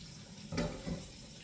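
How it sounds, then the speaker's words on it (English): Cold tap water runs briefly over cooked pasta in a colander, a soft close splash that swells for a moment and fades, heard alone with no talking. "You dump it in a colander and rinse it under cold water."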